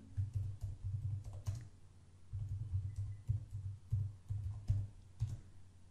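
Rapid keystrokes clatter on a computer keyboard as code is typed, coming in quick uneven bursts with brief pauses between runs, close and fairly soft, with no talking.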